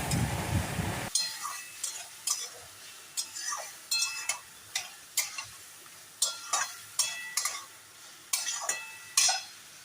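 Spice masala sautéing in a pan with a splash of water for a vegetarian soybean curry, a steady sizzle broken by repeated scrapes and stirs of a spoon, close and clear, with no talking.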